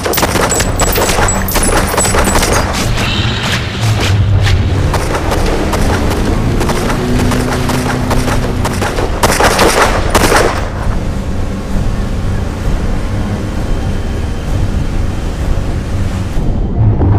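Sustained gunfire in a shark action movie, a dense crackling barrage running loud for about ten seconds before easing into a steadier roar that continues to the end.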